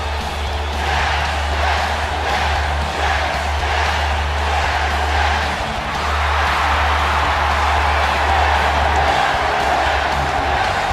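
An arena crowd in the video game WWE 2K19 cheers for Daniel Bryan as a steady, loud roar with rhythmic pulses of chanting over a low constant hum.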